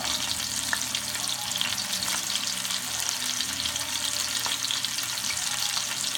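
Pot roast sears in a hot pan with a loud, steady sizzle and crackle that runs unbroken from start to finish, with no talking.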